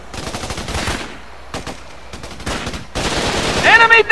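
Gunfire in the Xbox 360 shooter Raven Squad: several loud bursts of automatic fire come in separate clusters, with shouted in-game voices mixed in near the end.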